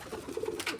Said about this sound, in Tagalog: Ayun, nagtago dito mga kalapatids.